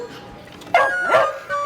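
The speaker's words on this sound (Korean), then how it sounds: "카페 손님만 오면 이리저리 주변을 맴돌다가 짖기 일쑤입니다." A dog barking in a café, two short, high yipping barks about half a second apart, close and fairly loud over faint room noise.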